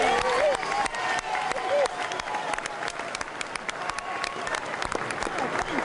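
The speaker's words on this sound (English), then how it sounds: "And his words were greeted with applause and release." A crowd at a formal UK-Australia apology gathering breaks into steady applause, many hands clapping continuously with some cheering and voices mixed in.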